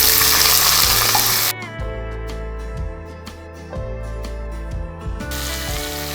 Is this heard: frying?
yes